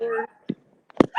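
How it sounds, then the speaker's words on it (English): Dogs give a few short, sharp barks and yips, brief and spaced apart, between bits of a person talking. "Don't worry about the dogs."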